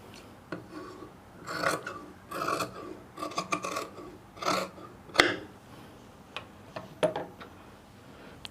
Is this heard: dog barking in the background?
no